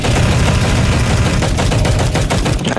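Rapid, loud, continuous automatic gunfire in Counter-Strike: GO zombie escape mode, dense bursts filling the whole stretch with no talk over it.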